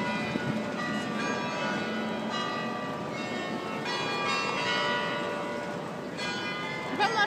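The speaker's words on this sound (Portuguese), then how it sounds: "É o sino da igreja?" A church bell rings in Amsterdam, steady sustained tolling with ringing overtones that carries through outdoor street noise, fairly clear and moderately loud, with some voices in the background.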